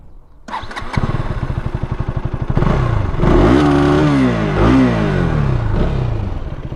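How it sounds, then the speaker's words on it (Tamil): A KTM Duke 250 single-cylinder motorcycle with a BS6 engine cranks briefly, then fires up into a loud, close, chuffing idle. Its exhaust note is blipped into rising and falling revs a few times, with no talking. "எக்ஸாஸ்ட் நோட் பார்த்தீங்கன்னா இப்போது வர BS6 மிஷின்ஸ் எல்லாமே பார்த்தீங்கன்னா கொஞ்சம் டிஃப்ரெண்ட்டாக தான் இருக்குது"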